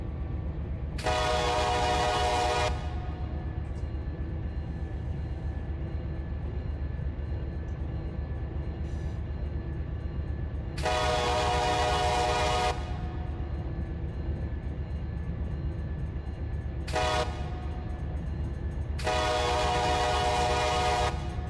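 Train horn blasts in the Run 8 train simulator game over a steady low locomotive rumble, four separate blasts, three long and one short, spaced several seconds apart.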